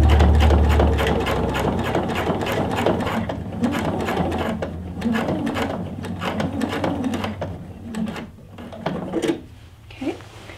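A sewing machine stitching a patch onto a scrubs sleeve, running in a fast steady mechanical whir with rapid needle ticks, slowing and stopping near the end with a few light clicks as the fabric is turned.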